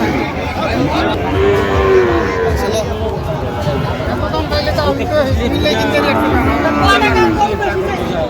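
Cattle low repeatedly at a Dhaka livestock market where Sahiwal bull calves are traded, the long moos rising over a steady crowd babble and nearby talk.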